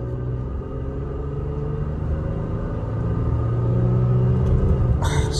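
A tuned Toyota Tacoma truck's engine drones as the truck drives, with a low steady rumble that builds gradually toward the end. A faint brief clatter is heard at the very end.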